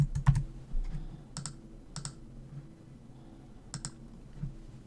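Sparse key taps on a computer keyboard while a password is entered during setup of Active Directory Federation Services, a few quick clicks in small bursts, close and moderately quiet over a low room hum.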